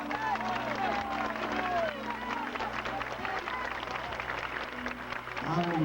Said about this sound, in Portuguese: Me dê uma salva de palmas para Jesus.